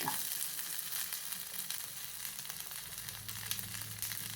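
Onion sautés in a pan with a bright, continuous close sizzle and faint stirring, steady and fairly quiet throughout with no talking.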